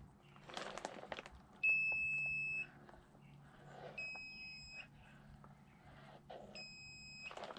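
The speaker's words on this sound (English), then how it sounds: "Let's see if the detector can detect it." Harbor Freight metal detector sensing pallet nails underwater, giving three separate electronic tones each lasting about a second, with faint splashing and handling noise between them.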